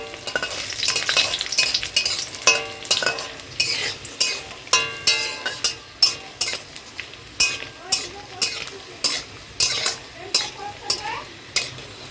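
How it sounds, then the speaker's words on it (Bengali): Papad frying in hot oil in a home kitchen, a steady crackling sizzle with regular stirring or scraping strokes that come in a rhythmic series through the second half, close by with faint background voices. "এখন পাঁপড় ভাজা করলাম"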